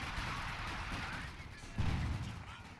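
A grenade explosion and gunfire in a World War II video game battle around Caen, heard as faint, dense crackling and booming that surges at one point into a stronger low thump.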